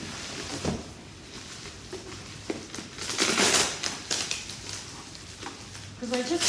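Bubble wrap being pulled and crinkled off a low neutral-coloured pot from a Kmart homewares haul, with irregular crackling and rustling bursts, loudest near the middle, close to the listener with no talking.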